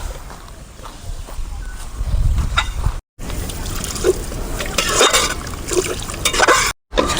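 Water is poured into a clam curry, a close trickling and splashing of liquid with small clinks, broken by two brief silent gaps.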